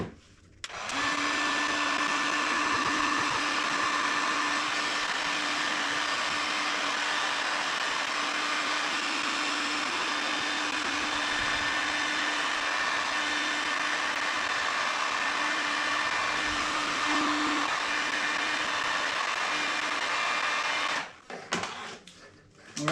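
Heat gun warming glued shrink tubing during a bilge pump install on a Hobie Revolution 13 kayak, a steady close whirring blower hum lasting about twenty seconds before cutting off.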